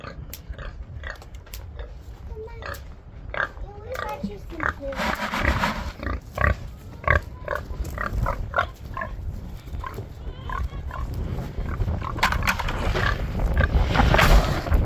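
Pigs on a farm grunting and squealing at close range, with bursts of snorting and rustling that grow busier over time while people talk intermittently.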